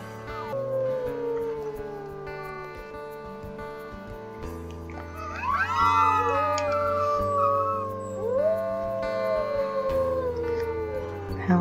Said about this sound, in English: Howling is definitely the best way to boost morale.